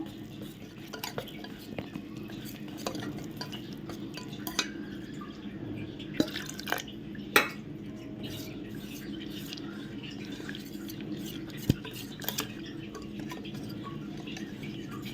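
A spoon stirs thick gram flour batter with water in a bowl, with soft wet slapping and occasional clinks against the side, steady and close by.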